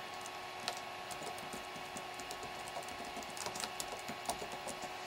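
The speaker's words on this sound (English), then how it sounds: "Now you can start typing." Light typing on a computer keyboard, with quiet, irregular clicks of keys tapping in quick bursts against a faint background hum.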